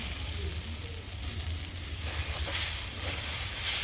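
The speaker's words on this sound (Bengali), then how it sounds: "আমার চাল ডাল ভালো করে কষানো হয়ে গেছে" Rice and lentils sautéing in a pan for a prawn and egg khichuri, giving a steady, close sizzling hiss that stays level and swells slightly near the end, with no voices.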